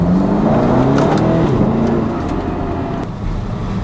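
A 2011 BMW X5 M in stock form accelerates hard in first gear, its engine revving up in a rising drone close by before easing off as the revs drop toward the end.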